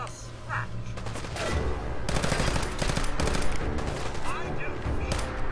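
Super Mutants firing guns in the Fallout 4 video game, sustained rapid gunfire and shot bursts filling most of the stretch, loud and continuous with a few sharp clicks early on.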